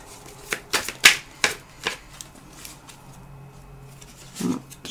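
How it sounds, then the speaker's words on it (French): Tarot cards shuffled and riffled in a quick burst of crisp flutters and slaps, followed by a softer handling thump, close and alone. "on va voir le tirage avec le tarot"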